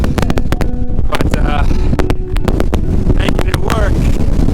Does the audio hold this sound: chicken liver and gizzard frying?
no